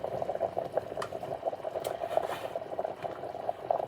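Water bubbles and rumbles at a rolling boil in a pot, a continuous close, quiet burbling with small pops.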